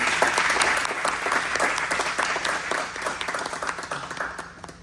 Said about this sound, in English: Let's give our presenter a round of applause.